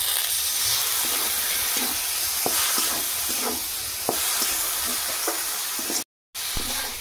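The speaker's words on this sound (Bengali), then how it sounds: "মশলাটা তলায় বসে যাচ্ছে, একটু জল দিয়ে দিচ্ছি।" Spice paste frying in a pan for a prawn and Malabar spinach dish gives a steady loud sizzle and steamy hiss after water is added, with occasional stirring scrapes and a brief gap near the end.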